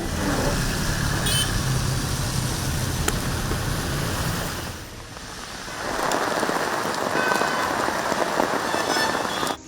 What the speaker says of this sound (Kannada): ಇತ್ತ ನೆಲಮಂಗಲದಲ್ಲೂ ಮಳೆ ಅಬ್ಬರಿಸಿದೆ ಗಾಳಿ ಸಹಿತ ಮಳೆಗೆ ಜನರು ಪರದಾಡಿದ್ರು